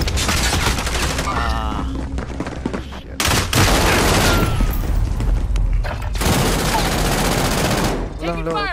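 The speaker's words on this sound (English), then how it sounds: "Taking direct fire!" Rapid machine-gun bursts, a Bruin among them, crack in close, repeated volleys in a multiplayer shooter match, broken by short pauses and heavy thuds, with voices talking over the fire.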